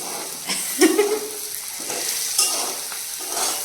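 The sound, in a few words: food frying in oil over raised heat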